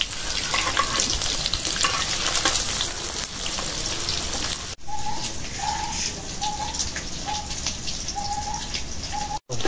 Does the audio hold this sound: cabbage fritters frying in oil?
yes